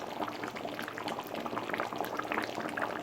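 Thick vatha kulambu curry with brinjal bubbles steadily in a kadai, a dense, continuous simmer of popping and gurgling heard up close.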